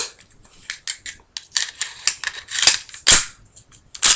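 Parts of a Ruger SR9c pistol clicked back together during reassembly, a dense run of sharp, close metallic clicks and snaps at an irregular rhythm, some louder than others, with no talk.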